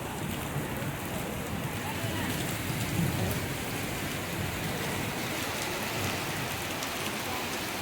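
Steady rain falls outside a hospital in Nainital, a dense even hiss of drops on surfaces that holds at the same moderate level throughout, with no voices.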